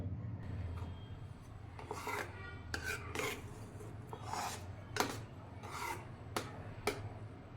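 Sorghum flour porridge with sour buttermilk being stirred in a pot, a steady scraping rub of the spoon against the pot with sharper knocks and scrapes every second or so, fairly close and quiet, no talking.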